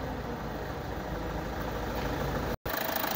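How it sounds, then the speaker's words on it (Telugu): A Toyota car engine idles steadily, a low continuous hum with an even beat, close and unchanging apart from a brief dropout near the end. "వెహికల్ యొక్క ఇంజన్ బీటింగ్ చూడండి."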